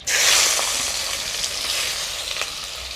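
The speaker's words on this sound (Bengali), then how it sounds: "প্রথমে চিংড়ি মাছগুলো ভেজে নেব" Shrimp hit hot mustard oil in a wok with a loud, sudden sizzle that settles into a steady, close crackling hiss.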